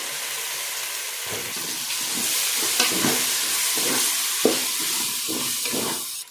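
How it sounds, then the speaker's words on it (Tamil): Steady sizzling of onions and tomatoes frying in a pan for mutton biryani, with a few stirring scrapes and soft clinks over a constant hiss. "நல்லா வெங்காயம்லாம் பொரிஞ்சு வந்துருச்சு"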